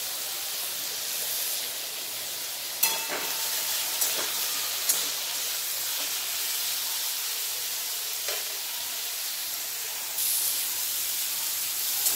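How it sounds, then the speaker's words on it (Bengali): Ridge gourd and potatoes frying in oil in a kitchen wok, a continuous loud hiss and sizzle with occasional sharp clicks of a spatula stirring. "ঝিঙে আলু ভালোভাবে ভাজা হয়ে গেছে"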